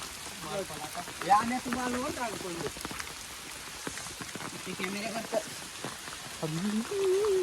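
First monsoon rain falling around a village, a steady hiss of drops on surfaces throughout, with people talking over it nearby.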